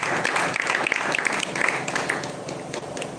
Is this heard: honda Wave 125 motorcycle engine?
no